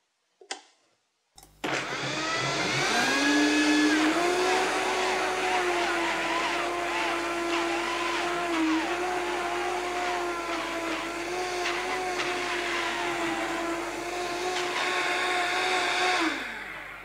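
A Vitamix blender starts after a couple of clicks and blends frozen banana with macadamia nut butter into ice cream, a loud, steady motor whine with a high tone that holds and slightly shifts for about fifteen seconds before easing off.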